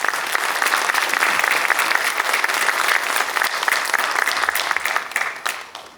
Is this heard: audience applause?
yes